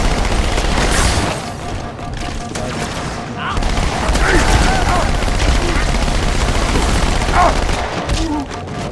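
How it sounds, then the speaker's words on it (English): Rapid SMG fire from Halo 2 Anniversary crackles in dense bursts alongside booming explosions and other game effects, loud and continuous across a chaotic firefight, with a voice speaking briefly over the action. "probably gonna want to keep the SMG because it's a rapid fire"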